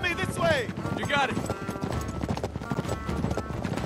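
Horse hooves clip-clop in steady rhythm during a desert caravan ride in the video game Uncharted 3, continuous and fairly close, with voices talking over them.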